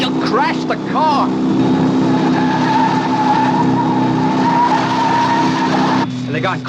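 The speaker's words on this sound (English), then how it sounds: "you'll crash the car" A car skidding with tyres squealing in a 1960s Thunderbirds audio drama, a long loud screech with an engine roar underneath and rising whooping squeals near the start, cutting off abruptly before a final burst.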